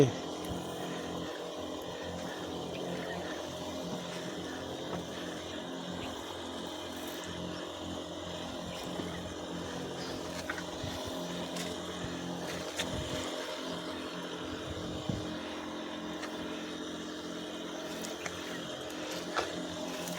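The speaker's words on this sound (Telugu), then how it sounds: "గ్యాస్ మందు కొడుతున్నా ఇగో ఈరోజు పొలంలో" A petrol engine sprayer applying pesticide over a waterlogged paddy field drones steadily up close for the whole span, with occasional sharper knocks and surges over the motor's hum.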